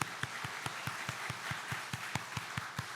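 A church congregation claps in unison, a steady run of about a dozen evenly spaced, moderately loud claps with a faint roomy background.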